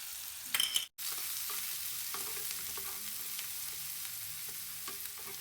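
Onions, garlic, green chillies and cumin sizzle and fry steadily in hot oil for a soya chunk curry, with a brief clatter of stirring near the start and a short gap before the sizzle resumes, no talk.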